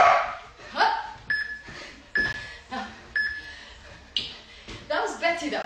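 A dog lets out several sharp barks at irregular intervals, fairly close, with a person speaking and breathing heavily in between during a workout.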